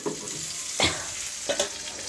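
Fried fish pieces and sautéed potatoes sizzle in a pan for a light curry, with a soft constant hiss and a couple of sharp stirring scrapes.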